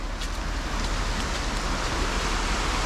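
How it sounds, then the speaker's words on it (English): Steady rain falling outdoors on a wet day in the UK, a dense even hiss that fills the whole stretch at constant moderate loudness, with no voices over it. "It is raining."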